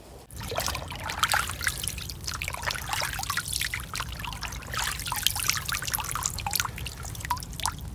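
A thin stream of wilderness water trickling and dribbling into a container, a steady close liquid patter with small splashy drips running continuously throughout.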